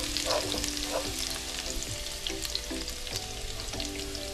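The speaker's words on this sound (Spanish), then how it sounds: "Ya que el ajo vemos que está ya frito" Garlic frying in a hot pan with oil, a steady close sizzle and crackle with light stirring scrapes, continuous throughout with no talking.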